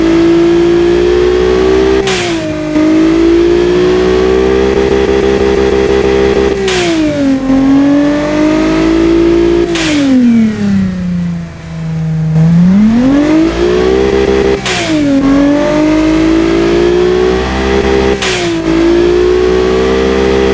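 A turbocharged V6 GT car engine in the Automation game revs up and drops back again and again, a loud, close, smooth whine that climbs and falls in about five waves without pause.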